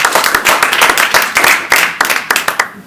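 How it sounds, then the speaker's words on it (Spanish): An audience at a literary event honoring Rubén Darío breaks into loud, close applause, steady clapping in quick bursts across the whole moment. "Creo que merece un aplauso"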